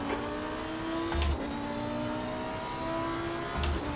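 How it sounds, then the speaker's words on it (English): A race car in an esports racing video game approaches and passes, engine tones rising and falling with short louder bursts, steady and close with no voices. "Take care, there's a car approaching."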